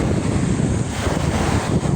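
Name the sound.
wind and waves at the seashore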